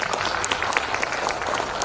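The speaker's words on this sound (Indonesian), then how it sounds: "Tepuk tangan." Applause at a national working meeting of the PERADIN advocates' association in Jakarta, a loud dense burst of many people clapping in a hall, steady and close throughout.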